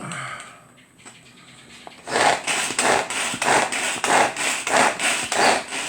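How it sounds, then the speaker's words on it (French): Knife chopping ham on a cutting board, a brief quiet lead-in followed by a quick regular series of about a dozen close, crisp chops with no talk. "On vient hacher le jambon."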